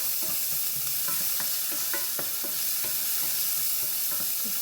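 Bicol express with coconut milk and jalapeno is stirred in a pan, a steady frying sizzle broken by quick, close scraping and clinking strokes of the utensil.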